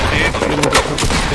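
Castle turret gunfire in the Fortnite video game, a loud, rapid rattle of shots packed into a brief burst, with voices mixed in.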